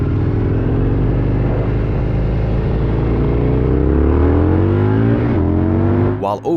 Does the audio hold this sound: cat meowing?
no